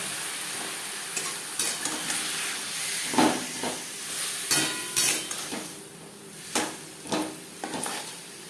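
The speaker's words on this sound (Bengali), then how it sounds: "তেলের সাথে বাটার বেশ ভালো করে মেল্ট করে নেওয়ার পরে দিয়ে দেবো ম্যারিনেট করে রাখা চিকেন" Marinated chicken pieces fry in hot oil and melted butter, giving a loud, steady sizzle and hiss with stirring scrapes and pan clatter breaking through at intervals, with no voices over it.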